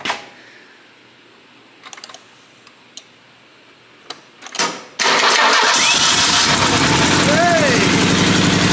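A Merkur car engine, just back in running order, is heard after a few faint clicks and taps: the starter catches and the engine bursts into a loud, sustained idle, with voices talking over it.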